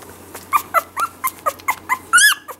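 Several hungry young puppies whimper and yip in a quick run of about nine high-pitched cries. The cries are close and loud, ending in a longer, rising whine.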